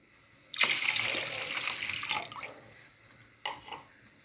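Water is poured into a pot of rice for Sri Lankan milk rice, a close, splashing two-second stream that tapers off, followed by a shorter second pour after a brief pause.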